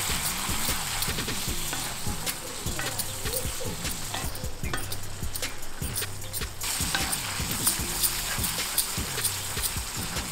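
Mutton liver sizzles in a pan while being stirred, with a steady bright frying hiss and repeated rhythmic scrapes and knocks of the spoon against the pan.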